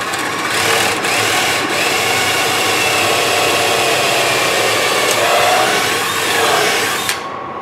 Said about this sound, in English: By flipping it over, I can drill right from this side and make sure I go right through the center of that.